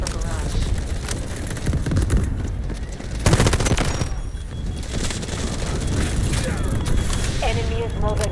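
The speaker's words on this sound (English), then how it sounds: "Artillery ready for barrage." An artillery barrage and gunfire in the video game Delta Force Hawk Ops, with dense rapid automatic fire, heavy booms and crackling bursts that continue throughout, with a brief radio voice near the end.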